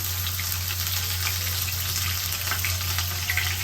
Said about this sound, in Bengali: এখন এই যে পেঁয়াজ দিয়ে দিচ্ছি, পেঁয়াজের পরিমাণটা একটু বেশি রেখেছি আর গরম মশলাটাও দিয়ে দিলাম।